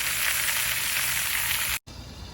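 Turkey legs browning in a hot pan give off a loud, steady sizzle, a continuous frying hiss that cuts out briefly near the end and then resumes more softly.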